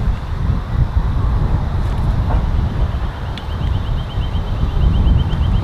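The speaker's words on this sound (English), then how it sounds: "Considering there's a really hard left to right wind" Strong, gusty left-to-right crosswind buffeting an outdoor microphone, a dense low rumble throughout with a faint repeating high chirp later; no talking.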